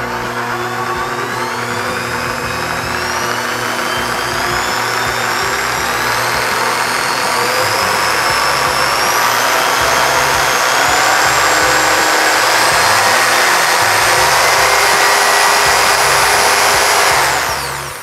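Bosch GST650 jigsaw running steadily and loud for the whole stretch, a continuous motor whine with a rising pitch and the buzzing of the blade cutting, close and without talk.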